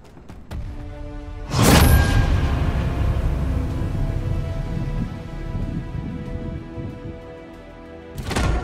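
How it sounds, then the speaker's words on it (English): Heavy thunderstorm rain from Call of Duty Modern Warfare III Zombies, a steady loud downpour with a sharp thunder crack near the start and another building at the end, continuous and without talk. "I have never seen a storm grow so big or so fast."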